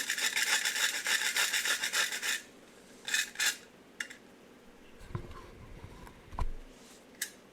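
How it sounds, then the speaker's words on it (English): Nutmeg grated in a small hand grinder: a close, rapid rasping burst at the start, then a few short scrapes and soft knocks of handling, with no talking. "I love this little nutmeg grinder."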